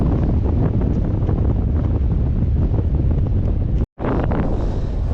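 Biting wind on a winter mountain summit at Ben A'Ghlo roars steadily and loudly across the microphone, a constant heavy buffeting broken by one brief dropout near the end.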